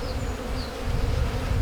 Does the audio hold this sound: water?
no